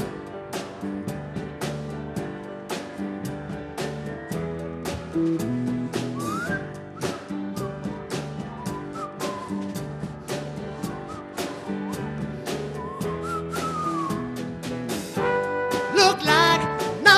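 A high school spring music concert audience whistles along to a band playing a song, with faint whistled melody lines riding over steady instrumental music and a strong beat.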